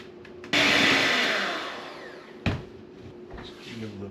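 An electric mixer whirs loudly into zero sugar chocolate cake batter, starting abruptly, fading over about two seconds, then a sharp knock and quieter mixing follows.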